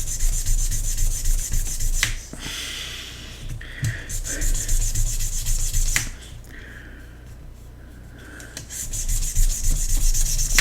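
Pieces sanded by hand against a flat surface under firm pressure, making close, dry rasping strokes in steady runs with brief pauses between passes.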